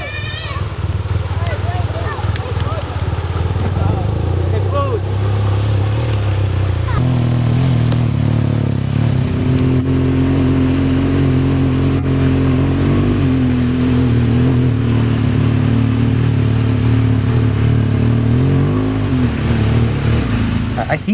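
A motorbike engine drones loudly on a dirt road in Laos, rough and steady before shifting to a higher, fuller revving tone partway through, then holding there.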